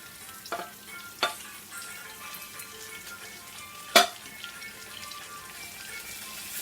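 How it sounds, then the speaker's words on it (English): Tomatoes sautéing with garlic and onion in a pan for saltfish buljol, a soft continuous sizzle with a few sharp crackles and pops, close and fairly quiet, with no voices. "Put in the tomatoes and let that saute with the garlic and the onion"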